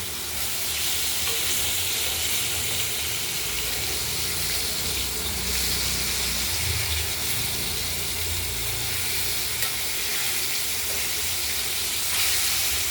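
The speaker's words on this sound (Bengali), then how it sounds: "মাছগুলো ভাজা হতে থাকুক" Pieces of cut katla fish frying in oil in a pan give a constant crackling sizzle with bursts of spattering, close and steady throughout, with no voices.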